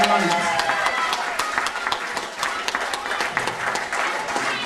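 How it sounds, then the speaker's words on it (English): Audience applause at an amateur Christmas pantomime evening, a dense steady clatter of many hands clapping throughout, with scattered cheers and voices mixed in. "Come on, Sarah, a big round of applause for Sarah."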